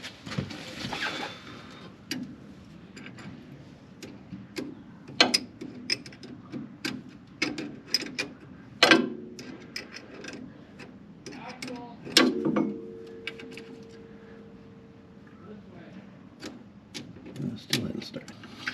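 Wrench work on a vehicle's fuel line near the steering knuckle: sporadic metallic clicks, ratcheting and clanks at close range, with someone talking now and then in between.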